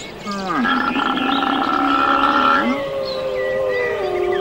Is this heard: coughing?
no